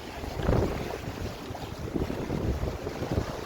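Congo River Rapids raft ride at Alton Towers plunging down a waterfall, a loud continuous rush and splash of churning water with wind buffeting the microphone, no voices.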